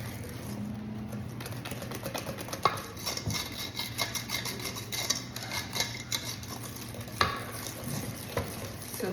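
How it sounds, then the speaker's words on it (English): Whisk rapidly scraping and clicking against a bowl while mixing chocolate pastry cream (crème pâtissière), a fast steady patter of metallic ticks, close and fairly quiet. "So I'm whisking this."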